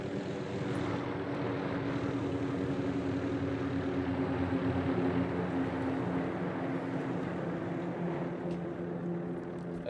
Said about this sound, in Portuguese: O helicóptero deles trouxe mais gente.